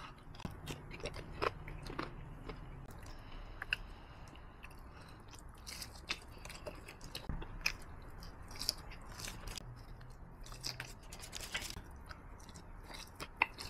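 Close, crunchy bites and steady chewing of Wingstop garlic parmesan chicken wings, with soft wet mouth sounds repeating throughout and no talking.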